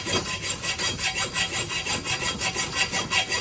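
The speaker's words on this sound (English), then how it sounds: "So this is just a normal hacksaw." A normal hacksaw cuts through a metal door lock rod clamped in a bench vise, giving steady rhythmic back-and-forth rasping strokes, close and fairly loud, with no talking.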